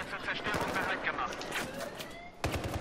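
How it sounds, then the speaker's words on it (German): Gunfire in the video game Battlefield 4, with rapid bursts and single shots cracking repeatedly over steady battle noise, a louder burst near the end, and voices talking over the shooting. "Von drüben schießen die."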